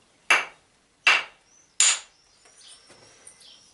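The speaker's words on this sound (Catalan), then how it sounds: "amb aquest martell puc treballar la pedra" Three sharp, evenly spaced cracks of a stone hammer striking stone ring out close by, with faint birdsong chirping in the quiet between and after.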